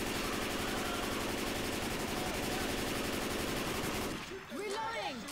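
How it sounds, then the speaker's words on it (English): Rapid machine gun fire in Left 4 Dead 2, a dense, loud burst of continuous rattling shots lasting about four seconds, then cutting off to quieter background sounds with a voice-like warble. "Hear my bullets!"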